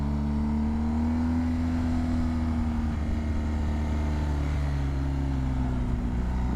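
A motorcycle engine is held at high revs in first gear, giving a loud, steady, droning roar with little change in pitch throughout.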